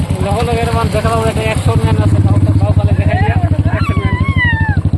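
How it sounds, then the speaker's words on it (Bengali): A motorbike engine putters loudly nearby with a rapid, pulsing rhythm while people talk over it, then it revs higher as it moves past. "সব খালি বাইক পিলপিলি যায় আছে"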